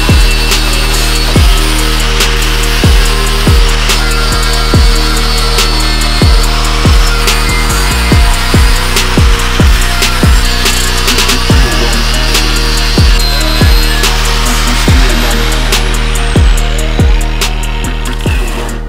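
Weld cleanup on modified brackets for an old truck: a steady, close, gritty abrasive hiss with repeated heavy strokes knocking at an uneven rhythm for the whole stretch, with no talking.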